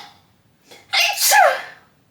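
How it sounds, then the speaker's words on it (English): A woman gives a single sneeze: a short intake of breath, then one loud, sharp burst, close and clear in an otherwise quiet room. "I have to sneeze."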